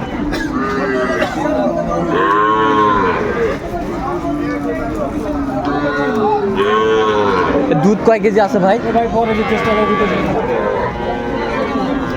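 At Aftabganj livestock market in Dinajpur, dairy cows give a series of loud, sweeping moos, some close and some farther off, against a steady hubbub of people talking.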